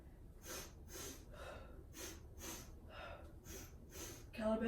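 Rhythmic breaths during a beginner Pilates sequence, a series of sharp, close puffs at a steady pace with a short gasp-like inhale at the end.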